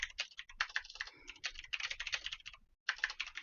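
Someone types on a computer keyboard while copying text from a chat, making quick, uneven bursts of clicking keys with short pauses, close and clear with no talking.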